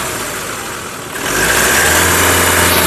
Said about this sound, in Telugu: ఇంజన్ యొక్క నాయిస్ కూడా చాలా సైలెంట్గా అయితే ఉంది